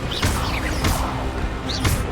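Fire spells cast in the video game Hogwarts Legacy: three sharp, whooshing bursts of flame, evenly spaced and close up, over a steady background of game noise.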